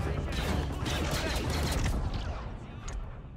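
Dense, rapid gunfire in the game Star Wars Outlaws, continuous bursts of shots blending together with a roaring, loud texture that eases off slightly near the end.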